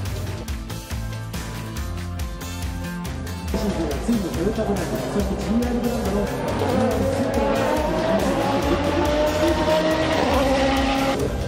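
A 2020 Toyota GR Supra Super GT GT500 race car engine roars and revs close by, rising in pitch as it accelerates, with brief tire squeal and a voice talking over it.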